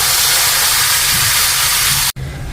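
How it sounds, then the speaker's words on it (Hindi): Hot spiced tadka poured into moong and masoor dal sizzles in a loud, close, steady hiss that cuts off abruptly, then resumes more softly. "तड़के को दाल में डाल देंगे।"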